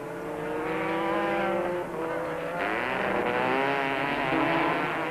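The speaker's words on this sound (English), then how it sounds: "And Berthold is through, around the outside of Ericsson and into third position behind Moore." Racing cars lapping a race track during a 1997 Super Series race, their engines roaring steadily and loudly together with shifting pitch as the field passes, under continuous motor noise.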